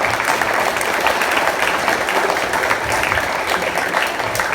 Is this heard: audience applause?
yes